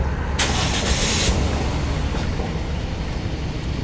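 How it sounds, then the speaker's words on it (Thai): A Toyota Yaris engine cranks briefly, then catches and settles into a steady idle, heard close with a constant low rumble and no talking. "ก็จะสตาร์ทเครื่องดูครับผม"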